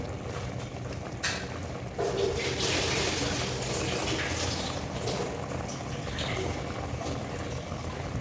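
Water boils in a cooking pot, a steady bubbling and hissing roll that holds at a moderate level, with a few louder splashing swells and no voices.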